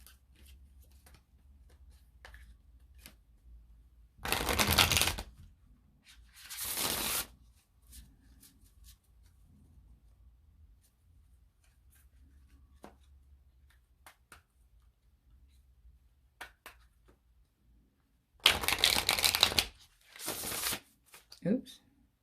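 A tarot card deck is shuffled in quick riffling bursts, two close together early on and two more near the end, with quiet stretches and soft handling noises in between.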